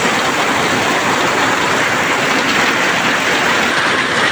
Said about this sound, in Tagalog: Grabe, kusuga sa ulan guys.